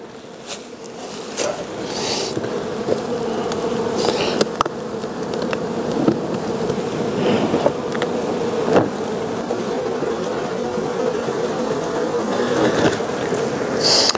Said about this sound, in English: there's a lot of bees, as you can see, that are in this hive as well.